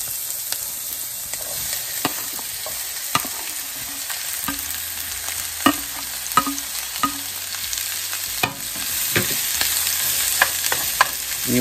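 Onions and peppers sizzle in leftover sausage grease in a pan, a steady close frying hiss broken by scattered clicks and scrapes as the vegetables are tossed around.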